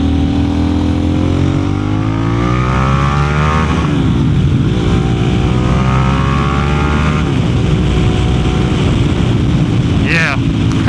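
Harley-Davidson Pan America ST motorcycle at highway speed, a steady loud engine drone with shifting harmonic pitch and heavy wind rush throughout, a brief sharper burst near the end.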